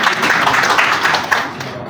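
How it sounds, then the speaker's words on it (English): Applause from a crowd at a quarterly board meeting, dense steady clapping that fills the whole moment and fades slightly at the end, loud and close. "Please clap for yourself."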